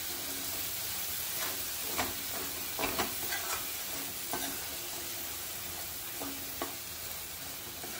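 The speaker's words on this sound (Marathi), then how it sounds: "थोडं परतून घ्यायचं आहे वाटण, अगदी एखादा मिनिट." Ground masala paste sautéing in a pan for an eggplant and potato gravy: a steady low sizzle runs throughout, broken by a few soft scraping stirs, with no voices.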